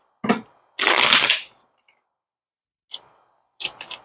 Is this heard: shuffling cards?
yes